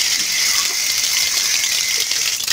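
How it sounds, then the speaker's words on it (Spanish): Water pours in a steady, loud, close gush onto a plaster mix, hissing without a break and with no talk over it. "Y de ser posible le echamos otra poquita de agua."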